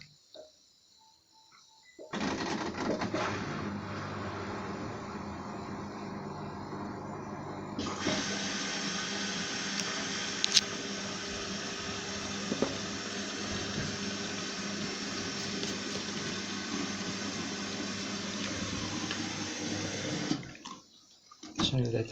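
Washing machine filling with water before a rinse cycle. Water rushes in steadily for about eighteen seconds after a click, swells louder partway through, then cuts off.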